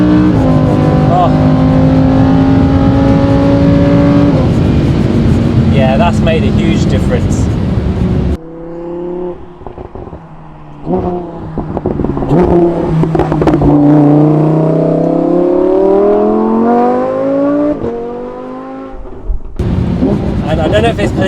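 Lamborghini Huracan V10 fitted with a Supersprint exhaust revving hard with the valves open, loud rising and falling engine notes with crackling overrun, a brief lull before the revs climb again, with someone talking over it.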